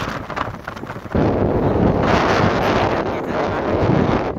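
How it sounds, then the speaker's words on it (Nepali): Strong wind buffets the microphone on an exposed hilltop gate on the Bhojpur–Khotang border along the Mundhum Trail in Nepal, a loud continuous roar that surges heavier after the first second and stays dense throughout. "हावा चाहिँ बेसरी चलिरहेको छ।"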